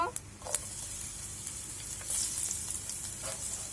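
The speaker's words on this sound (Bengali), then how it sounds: "এই তেলে জিরা দিয়ে দেব, রসুন কুচি দিয়ে দেব," Cumin seeds and chopped garlic sizzling in hot oil for a Bengali potol dish, a faint steady hiss with a couple of brief crackles near the start.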